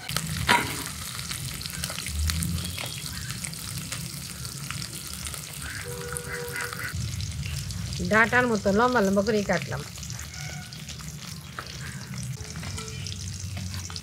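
Tengra fish frying in a pan of oil for a curry with ridge gourd and potato, a steady broadband sizzle running throughout with occasional stirring clatter and a brief spoken voice over it.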